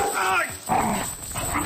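A guard dog barks in a garage storeroom, a few quick yelping barks close by, broken by short pauses and mixed with tense voices.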